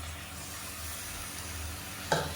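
Blended hybrid tomato puree going into a sizzling pan of sautéed kulambu base, a soft steady hiss with light stirring, then a brief louder splash near the end; no voices.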